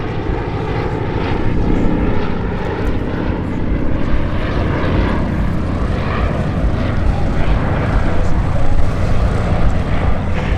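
A canard-configured light aircraft lands on runway 36 left at the EAA AirVenture fly-in at Oshkosh, its steady, loud propeller engine drone holding throughout with broad rumbling noise and no talk.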